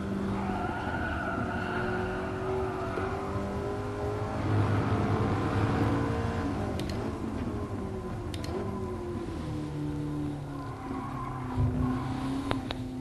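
A 2010 McLaren MP4-12C in the GT Sport racing game brakes and downshifts, its engine note dropping and blipping through gears with brief tyre squeal, steady and close throughout.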